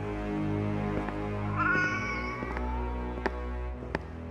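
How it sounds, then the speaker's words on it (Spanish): A cat meows once in a drawn-out, wavering cry, heard near and moderately loud over a low steady hum with a few soft clicks. "Por los finos peldaños de la escalera me seguía el gato."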